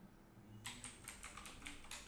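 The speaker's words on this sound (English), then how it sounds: "let's just type it in" Rapid typing on a computer keyboard, a steady run of close, quiet key clicks that begins after a short pause and continues without talk.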